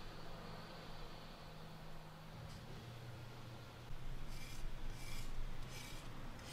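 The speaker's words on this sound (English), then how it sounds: "listen to the difference in me rubbing my hand on a clay bar surface and a non-clay bar surface" A hand rubs across the painted panel of a Harley-Davidson motorcycle, one panel clay-barred and one not, giving a faint, steady raspy friction that grows rougher and louder in short strokes near the end.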